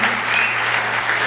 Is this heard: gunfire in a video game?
no